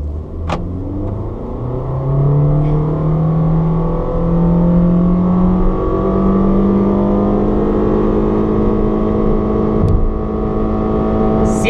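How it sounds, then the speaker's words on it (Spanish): A 2018 Honda BR-V SUV engine accelerating hard toward top speed, a loud, steady interior drone whose pitch climbs through several gear shifts and continues throughout. "Y mucho ruido del motor."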